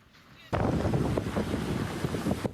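Strong typhoon wind in Kaohsiung roars and buffets steadily in a dense, blustery rush, loud and close with no break for about two seconds.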